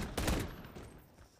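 A quick burst of .50 GS akimbo pistol fire in a video game, several rapid shots bunched together and fading into a short tail, fairly quiet.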